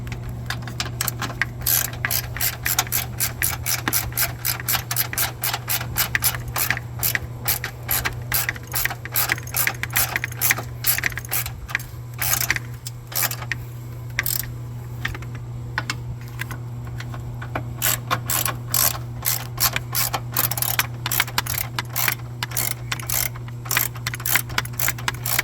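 Continuous rapid ratchet clicking while snugging engine and transmission mount bolts on a 2013 Ford Escape, steady close metallic ticks with brief pauses and a constant low hum beneath.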